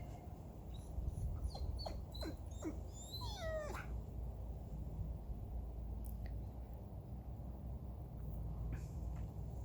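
A dog cries and whimpers during sit obedience training, giving a cluster of short, high, wavering whines early on before falling quieter against a steady low background hum.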